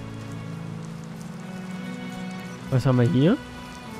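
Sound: rain in the video game Enderal

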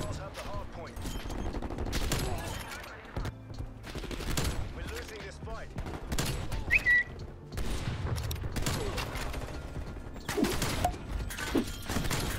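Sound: gunfire in video game Black Ops Cold War

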